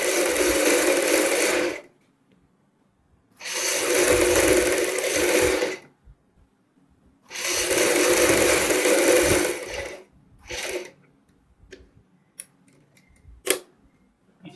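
A sewing machine stitches the collar neck of a Punjabi suit or kurti in three steady whirring runs of about two seconds each, separated by short pauses. Faint clicks and handling noises follow at the end, with no voices.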